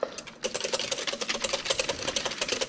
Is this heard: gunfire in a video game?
no